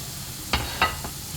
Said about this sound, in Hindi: इसे भी अच्छी तरह से हम फ्राई कर लेंगे।